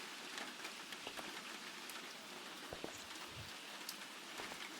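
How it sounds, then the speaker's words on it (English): Steady rain falls in the video game Dry Drowning, a dense, even hiss of drops hitting surfaces with scattered sharper drips, fairly faint and continuous with no voices. "It could be such a nice day if it wasn't for this damn rain."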